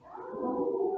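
A man imitates a wolf with one drawn-out vocal howl, rising slightly and held steady at moderate volume, with no other sound.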